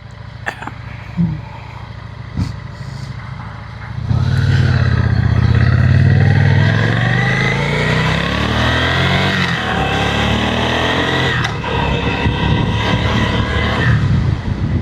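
A Yamaha V-Star motorcycle rides along, its engine rising from a low rumble into a loud, sustained drone with shifting pitch as it accelerates, heard close with wind noise and a few knocks at the start.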